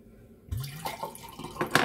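Cold tap water pours into a drinking glass, starting abruptly after a short quiet lead-in and continuing as a steady, close splashing stream with a brighter burst near the end.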